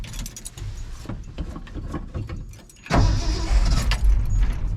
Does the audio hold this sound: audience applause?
no